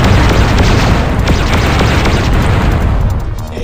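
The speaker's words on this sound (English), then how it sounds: "Oh, that was a failed missile." A missile explodes in the space-shooter video game Descent, a loud continuous roaring blast that fills the whole moment with dense rumble and crackle.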